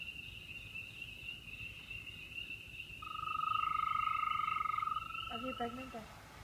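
Amphibians call in the Smoky Mountains: frogs trill steadily under a high insect-like chorus, and a louder sustained trill swells in the middle. Brief croaks follow near the end.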